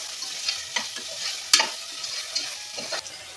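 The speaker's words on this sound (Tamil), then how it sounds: "இது கூட மஞ்சள் தூள் சேர்த்துக்கலாம். ஹை ஃப்ளேமில் நல்லா வதக்கிக்கலாங்க" A biryani masala base with turmeric sautéed on high flame crackles and hisses up close, broken by brisk scraping stirs and one sharp utensil knock against the pan, with no voices.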